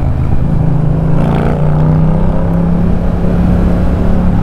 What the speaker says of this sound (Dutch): het scheelt dat de motor nog een beetje moet opwarmen